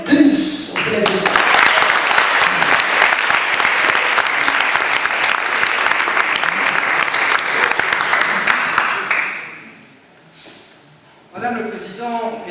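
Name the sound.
audience applause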